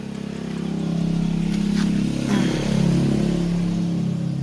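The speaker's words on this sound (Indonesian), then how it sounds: "di sini saya akan mencoba menghidupkan motor ini ya teman-teman" An attempt to start a Honda GL Max 100 motorcycle engine with a broken kick-starter gear, heard as a steady low mechanical rumble with slight surges, fairly loud and continuous throughout.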